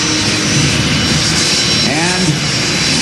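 A turboprop military trainer aircraft roars past at an airshow, a loud continuous engine drone with a sweeping pitch shift as it passes, amid crowd and announcer noise.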